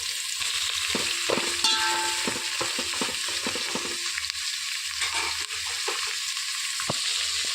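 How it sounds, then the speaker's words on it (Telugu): Chopped onions sizzle in hot oil in a pot for chicken biryani while a spoon scrapes and stirs them, a constant bright hiss broken by clinks and knocks of the utensil, close up. "ఇందులోనికి తరిగి పెట్టుకున్న ఉల్లిపాయలు వేసేసుకోవాలి ఒక పెద్ద సైజు ఉల్లిపాయ అండి వేసేసుకొని బాగా కలిపేసుకోవాలి"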